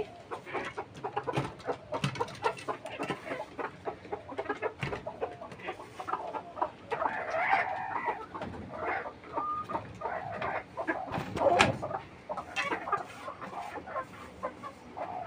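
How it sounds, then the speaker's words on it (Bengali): Desi chickens in a backyard shed cluck and murmur steadily while being fed, with scattered pecking taps and rustling and an occasional louder squawk, all fairly close and unaccompanied by talk. "মুরগিকে খাবার দিতেছি"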